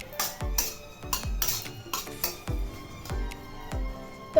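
Chicken curry masala being stirred in a pan, a utensil scraping and clinking against the metal in a steady series of strokes about every half second, close and fairly loud with no talk.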